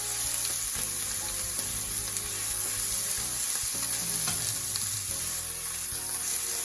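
Vegetables sautéing in a hot pan for a vegan kebab, a continuous bright sizzle with occasional scrapes and stirring knocks, close and alone with no talk.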